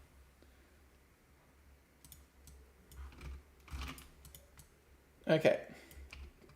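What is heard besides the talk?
typing on a computer keyboard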